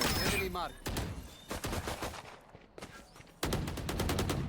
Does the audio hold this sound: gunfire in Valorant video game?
yes